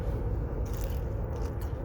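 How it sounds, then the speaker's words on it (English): Loud, close crunching of crisp fried food being bitten and chewed, with brittle crackles over a steady low rumble of background noise. "Y'all hear that crunch?"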